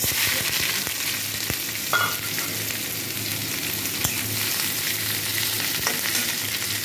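Dried red chillies and chopped green chillies fry in mustard oil in a wok, giving a steady, close sizzle with faint crackles throughout and no voices.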